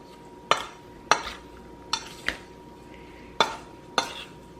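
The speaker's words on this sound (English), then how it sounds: "toss the beef in the flour, making sure that every piece is coated" Beef pieces tossed in flour in a bowl for stew, six sharp knocks and scrapes at uneven intervals, close and fairly quiet.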